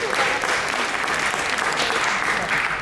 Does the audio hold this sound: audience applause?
yes